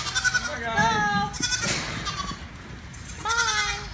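Nigerian dwarf and African pygmy goats bleating close by, several wavering bleats at the start and another near the end, with a person talking underneath.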